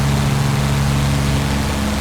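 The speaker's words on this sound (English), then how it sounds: "I think that's the sound of the Meredith effect that this P-51 has when it" A simulated P-51D Mustang's piston aircraft engine in Flight Simulator X (A2A add-on) at high speed, a steady, loud, dense drone with a low constant hum and no talk.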